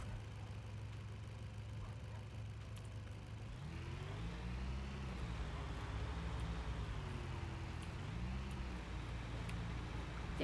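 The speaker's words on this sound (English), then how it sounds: "Damn car, get out of my way." A car engine in a storage-hunting simulator game runs steadily, then rises and swells from about four seconds as the vehicle draws close and passes, with a rising and falling engine tone throughout and no talk.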